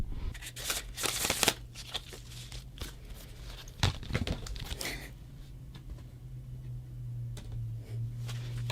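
Quick riffling bursts of shuffled cards come close by in the first few seconds, then settle into a quieter steady room hum.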